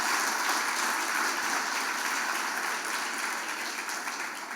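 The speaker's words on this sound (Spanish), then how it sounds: "Denle un aplauso al Señor en esta mañana" Church congregation applauding during a Sunday morning service, a dense, steady roar of many clapping hands that fills the room and eases off slightly toward the end.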